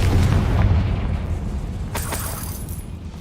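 A Confringo fire spell explodes in a video game: a deep, booming blast that rumbles and slowly fades, followed about two seconds later by a sharper crackling burst.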